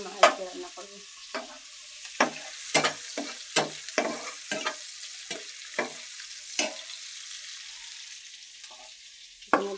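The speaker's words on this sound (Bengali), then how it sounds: "টমেটো কেটে নিয়েছি, টমেটো ভুনা করবো" Cut tomatoes cooking down in a pan are stirred with a spatula, giving a string of sharp scraping strokes over a quiet, faint sizzle, close by and without voices.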